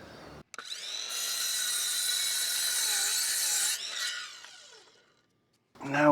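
A power saw cuts through the end of a 2x4 board for a gable shed roof, a loud steady whine for about three seconds that winds down, followed by a voice.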